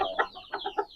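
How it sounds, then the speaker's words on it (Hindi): An Aseel rooster gives a quick run of short, close clucks, about five or six brief notes in a second with no talking. "ये एक और मुर्गा आ गया है जी।"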